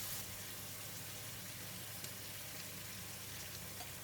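Mustard green stems hit hot onion oil with light soy sauce and oyster sauce, giving a steady, faint sizzle and soft frying hiss throughout with no talking.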